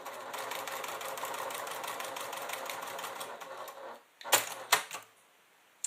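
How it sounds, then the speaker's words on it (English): A domestic sewing machine stitches a quilting line on a fabric clutch in one steady rattling run of about four seconds, followed by a few sharp clicks and thumps as the machine stops and the work is handled. "I'm going to go ahead and stitch this one last one"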